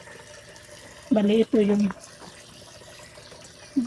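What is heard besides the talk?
water flowing from source into hydroponics setup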